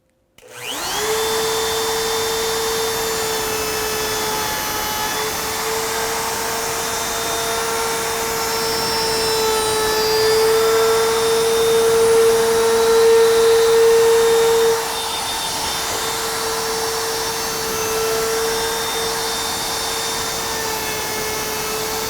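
A wood router spins up and runs steadily along the other side of a board, a loud continuous whine with a constant tone that swells slightly midway and holds to the end, with no voices.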